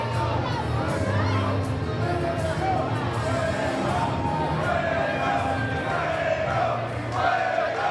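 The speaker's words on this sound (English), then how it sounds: "The crowd really behind El Fuego del Sol." Crowd at an independent wrestling show during a cruiserweight title match, a dense, continuous roar of cheering and shouting with whoops and high voices, steady and loud throughout.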